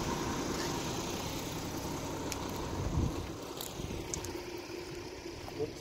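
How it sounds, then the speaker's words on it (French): A TDI diesel engine runs with a steady, rough low rumble close by, with some faint clicks and outdoor noise around it. "Écoute-moi ce beau bruit de TDI."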